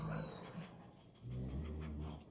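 A skinny, shy dog growls low and breathy: a soft rumble at first, then a louder, steadier growl through the second half, close by.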